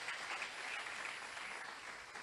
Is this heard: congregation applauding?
yes